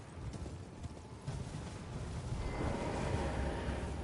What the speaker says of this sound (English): There's only one horse in the game, just so you know. It's Torrent.